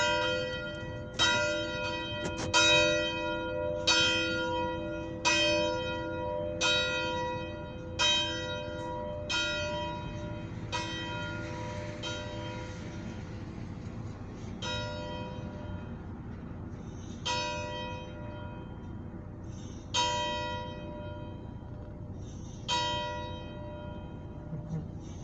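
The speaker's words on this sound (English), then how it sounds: "Just took on my tradition of tolling the bell at the end of it." A church bell tolls in slow, evenly spaced strikes, each ringing clear and bright before fading into a long hum, with a faint murmur of voices in the background.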